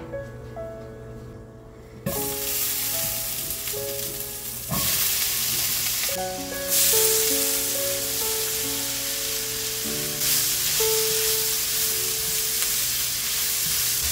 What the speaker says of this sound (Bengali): তো এই কালো জিরেটা একটু ভাজা হোক, তারপর এখানে যে আলু কেটে রেখেছি আলুগুলো দিয়ে দেবো।